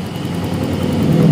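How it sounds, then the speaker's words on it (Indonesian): A Yamaha Mio Z scooter with a sputtering, power-lacking engine that won't idle properly runs close by, a steady low hum that swells louder as the throttle is opened toward the end. "motornya dihidupkan dulu. Nah nanti kalian bisa memutar ini bro. Nah dicari RPM yang paling tinggi ya."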